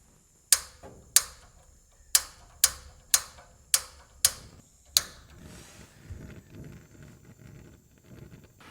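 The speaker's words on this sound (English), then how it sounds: "So we're gonna turn gas on, turn this to pilot." A gas fireplace is turned to pilot and lit, giving eight sharp, close igniter clicks in an uneven rhythm, followed by a faint, quiet hiss.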